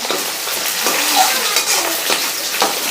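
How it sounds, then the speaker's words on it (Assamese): Onions, bay leaf and dried red chilli fry in a pan, a constant near sizzle with soft stirring scrapes and a few louder clinks of the spoon against the pan. "এইখিনি মই এতিয়া ৰঙচুৱাকৈ ভাজিম"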